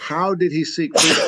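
A sharp, noisy sneeze bursts out right after a man's spoken question, loud and close.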